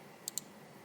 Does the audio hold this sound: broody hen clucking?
no